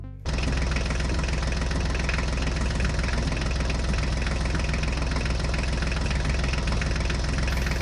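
A mini tractor's small engine runs steadily and loudly, a constant chugging drone with a dense mechanical rattle and no pauses.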